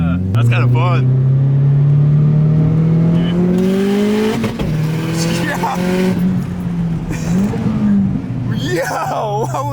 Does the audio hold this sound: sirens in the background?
no